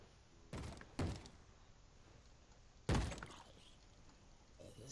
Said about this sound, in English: Stop banging on my door, it's annoying.